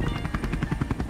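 A drone hovers close overhead outdoors in Mairiporã, São Paulo, its rotors giving a rapid, pulsing, helicopter-like thrum that stays loud and near throughout.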